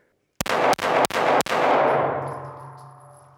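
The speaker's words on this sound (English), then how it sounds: "Let's see what happens when she fires 4 shots as fast as she can." A handgun fires four shots in quick succession within about a second, each a sharp loud crack, at a shooting range, followed by a long ringing echo that fades out.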